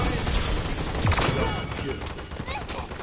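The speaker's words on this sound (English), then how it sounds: "let's call the airstrike in" Airstrike in the Paladins game: dense, loud rolling bursts of explosive fire and rumbling blasts, layered and continuous at close range, with someone talking faintly underneath.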